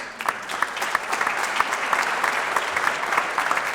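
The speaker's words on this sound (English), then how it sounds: "Give him a round of applause" Steady applause from an audience at a chamber of commerce small business awards event, dense clapping sustained evenly throughout at moderate loudness with no clear talk over it.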